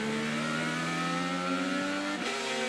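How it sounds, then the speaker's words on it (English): An IndyCar race car engine at Watkins Glen over-revs after an unwanted downshift to second gear, a loud, sustained high-pitched wail with rising harmonic tones and a brief stutter near the end. "That's no good for the motor either when it over revs like that, because there's no control."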